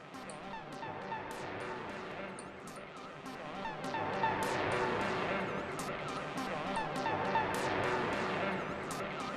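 Chirpy, squawking synth tones from an Atari 2600 imitate seagull cries, with repeated high wavering calls layered over a busy electronic wash that grows slightly louder midway.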